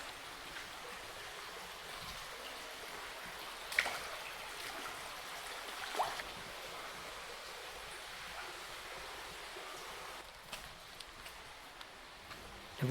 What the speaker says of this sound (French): sous laquelle on voit et on entend la rivière passer